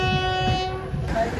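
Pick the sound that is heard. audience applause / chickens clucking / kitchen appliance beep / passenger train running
passenger train running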